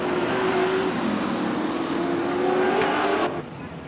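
Stock cars circle a short oval under caution after a spin-out on the backstretch, engines droning steadily at moderate volume with a faint rising whine, before the sound cuts down to quieter background near the end.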